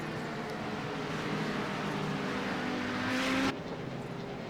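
Race car engines in the iRacing sim at Le Mans, Circuit de la Sarthe, a steady loud droning roar that rises in pitch toward the end before cutting off abruptly.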